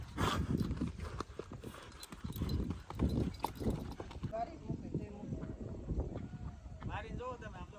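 Clear, close hoofbeats of a walking horse tap out an even clip-clop rhythm while people chat nearby.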